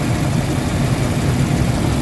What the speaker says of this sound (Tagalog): pakiramdaman nyo mabuti yung tunog ng makina